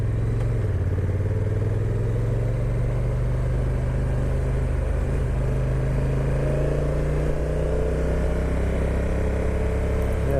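Honda NT1100 DCT motorcycle ridden in Sport 3 mode, a steady engine drone held under continuous wind rush, with pitch shifting as the dual-clutch transmission changes gear and holds revs longer.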